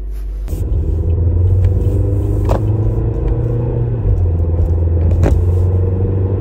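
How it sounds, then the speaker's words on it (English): A Chevrolet Trax on a test drive, its steady engine and road rumble droning continuously from inside the cabin, with a few light clicks and knocks over the top. "So I'm gonna take it for a drive, for a test drive, and we'll see."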